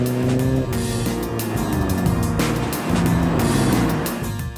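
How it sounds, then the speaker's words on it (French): An Alfa Romeo 4C sports car engine roars loudly and close, revving up through rising gears with brief dips at the shifts, strong and continuous throughout. "Une chose qui augmente encore l'esprit course de cette voiture, c'est le rugissement du moteur."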